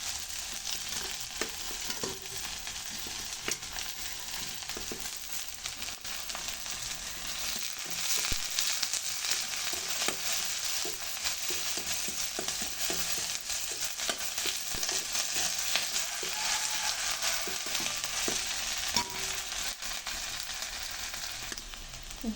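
Fennel seeds and curry leaves sizzle in a pan for a prawn and dried-fish poriyal, a continuous hiss of frying with occasional stirring scrapes throughout, no voices.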